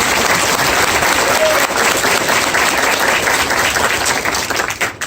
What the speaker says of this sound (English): please join me in a round of applause for the Maneuver Center of Excellence Band